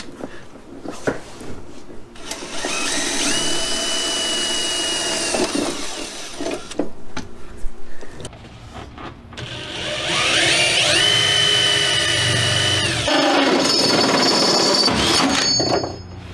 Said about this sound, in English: I'm using this angle drill here to go through the frame